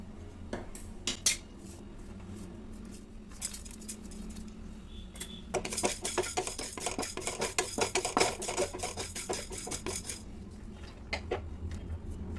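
Urad dal, chana dal and fenugreek seeds are stirred in a pan, sparse metal clinks at first, then a busy run of scraping and rattling taps, no voices.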